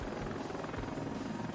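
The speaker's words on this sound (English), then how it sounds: "They can like zoom right this low without having any trouble." Black Hawk helicopter flying low in the Heliborne video game, a steady loud rotor chop and engine roar filling the whole stretch without pause.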